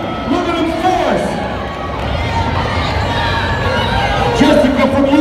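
A large crowd cheers and shouts steadily at a women's amateur strongwoman championship, a dense roar of voices throughout, with an announcer's voice calling over it.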